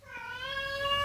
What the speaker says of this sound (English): there's Jenkins' stupid cat.